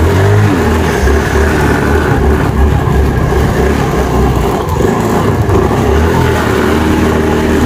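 A motorcycle with a stalling fault is revved hard and close, and its engine drone rises and falls steadily throughout. The revving continues without a clear cut-out, and nobody talks.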